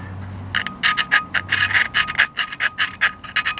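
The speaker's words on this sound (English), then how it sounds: "I'm gonna polish that side up with an abrasive grinder." An abrasive grinder polishes the face of a brake rotor on a Nissan Xterra, giving a close, loud series of rasping, rubbing strokes in a steady rhythm with no talk over it.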